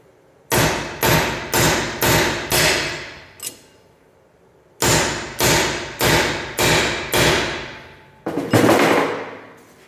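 Heavy hammer blows drive the pinion out of a Jeep Wrangler JK Rubicon Dana 44 axle. There are two bursts of five loud, evenly spaced metallic strikes with a short pause between them, then a final scraping thud.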